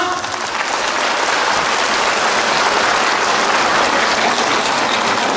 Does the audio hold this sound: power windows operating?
no